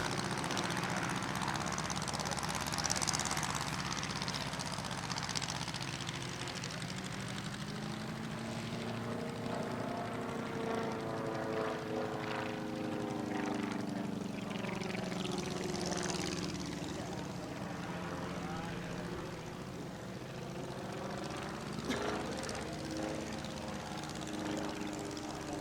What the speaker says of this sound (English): Bob Grimstead takes to the air in his Fournier RF4D